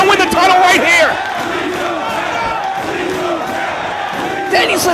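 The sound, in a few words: wrestling crowd screaming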